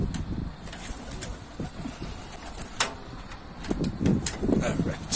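Pigeons cooing in low, soft repeated calls close by, with rustling, a sharp clack and people talking quietly in the background.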